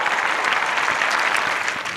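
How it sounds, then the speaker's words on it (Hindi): A crowd at an Urdu poetry mushaira claps for a young poet, steady and close, with dense overlapping hand claps continuing throughout. "तालियां बजा दीजिए और हौसला अफजाई कीजिए इस खूबसूरत नौजवान।"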